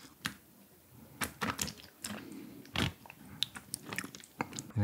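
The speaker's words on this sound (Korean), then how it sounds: "먹었을 때도 바삭함이 살아있으면 저의 부먹 판단이 이제 확실하게 옳은 거죠" Crisp bites into sweet and sour pork (tangsuyuk) with sauce poured over, a close series of sharp crunches and chewing spread across the stretch, loud and alone with no talk.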